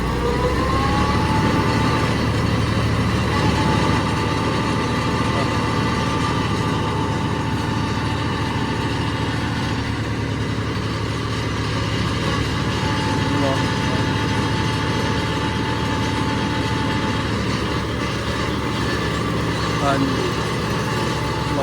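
A tractor engine idles steadily nearby, a continuous low rumble with a droning hum, while voices talk over it.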